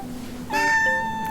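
A pet cat lets out a single clear, fairly loud meow close by, with no voices over it.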